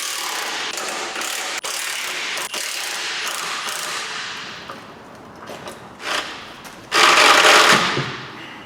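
A ratchet works the 21mm nut and 18mm bolt on a Ford Galaxy track control arm, a close, fast train of metallic clicks that pauses, then returns in short, louder bursts.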